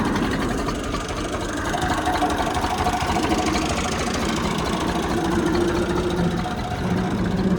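A 1982-model tractor engine idles nearby with a continuous low, throbbing rumble that holds steady throughout, with no talk over it.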